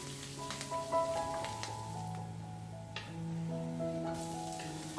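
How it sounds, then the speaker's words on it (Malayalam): Chopped ginger and green chilli sautéing in oil with popped mustard seeds in a South Indian home kitchen, giving a steady, moderate sizzle over a sustained tonal hum, with no talking. "അതിലേക്ക് ഇഞ്ചിയും പച്ചമുളകും അരിഞ്ഞതും ചേർത്തിട്ട് ഒന്ന് വഴറ്റിയെടുക്കാം."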